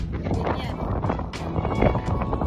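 Strong wind roars and buffets the microphone in steady gusts, with people talking underneath.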